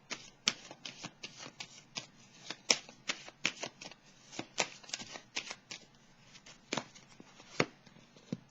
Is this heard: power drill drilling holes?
no